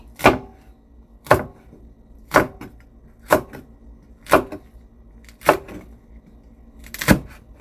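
A knife chops spicy chili on a cutting board: seven sharp, evenly spaced cuts about once a second, close and clear with quiet gaps between strokes.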